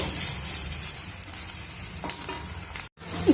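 Chopped onions fry in a pan for a bottle gourd curry, giving a close, continuous sizzle broken by spatula stirring scrapes and a brief dropout near the end.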